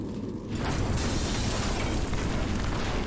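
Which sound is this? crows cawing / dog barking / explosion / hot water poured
explosion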